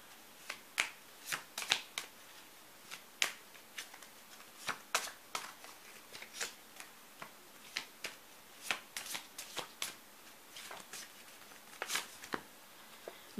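Oracle cards are shuffled by hand in a close, quiet room: a dense run of crisp riffling flicks and slaps comes in uneven bursts, with no voices.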